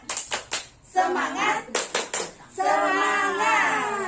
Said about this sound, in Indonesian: Sekali lagi ya ibu-ibu, tepuk semangat.